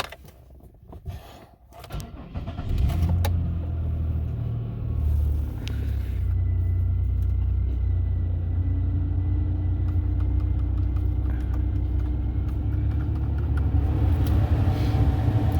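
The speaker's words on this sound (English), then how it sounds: "Don't be running a car in an enclosed space." A Buick Regal's 3800 V6 engine starts after some faint handling noises, then settles into a steady, close idle rumble that continues evenly to the end, with no talk.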